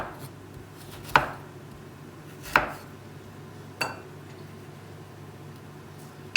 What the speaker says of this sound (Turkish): Şimdi onları güzelce doğrayıp küçük şekilde yemeğimi pişireceğim.